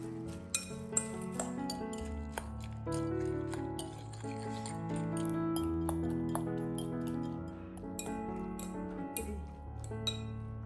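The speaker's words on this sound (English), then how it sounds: "mix well so that the noodles and eggs are evenly coated with the seasoning" Chopsticks clink against a bowl while instant noodles and eggs are tossed with seasoning and chopped green onion, giving repeated light ticks and clatters at close range over a low background.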